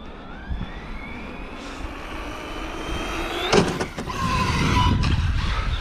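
Arrma Bigrock 6s RC truck with Proline MX38 Badlands tires running on ice on a cold day, a steady electric motor whine rising in pitch, with scraping bursts and a louder rush in the last two seconds.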